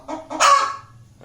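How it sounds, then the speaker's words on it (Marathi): A white hen gives a short burst of clucks, two soft clipped notes and then a louder, drawn-out squawky cluck, close by and alone. "ही कोंबडी मी गणेश कोलिवार सरांकडून मागवली आहे."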